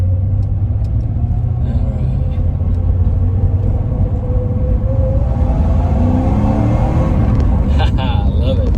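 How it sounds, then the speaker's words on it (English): A 1980 Porsche 928 with a five-speed manual gearbox, heard while driving: its engine and exhaust make a steady, loud, deep rumble from inside the car, rising slightly toward the end. "Got a great tone to the exhaust."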